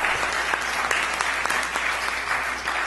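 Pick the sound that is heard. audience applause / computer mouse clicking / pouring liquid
audience applause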